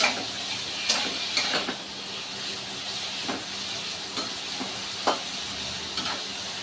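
Paneer pieces fry in oil in a pan with a steady soft hiss and sizzle, broken by a few light clicks and scrapes from stirring, close and without any talking.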